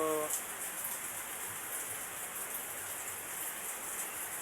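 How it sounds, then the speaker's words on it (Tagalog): Heavy typhoon rain pours down in a dense, unbroken hiss, steady and enveloping for the whole stretch, with no other sounds standing out. "lakas kasi ng ulan mga tamos so bumabagyo kasi dito sa amin"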